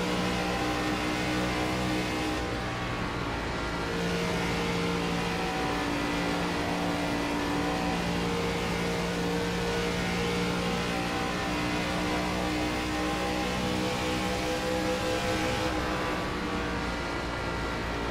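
ARCA race car engines at Las Vegas in the iRacing sim: a steady, droning multi-car engine roar held at constant pitch and loudness throughout, with no talk.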